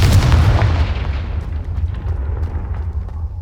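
A Confringo blasting spell from Hogwarts Legacy erupts in a loud, close explosion with a heavy low rumble that slowly decays over a few seconds, no voices present.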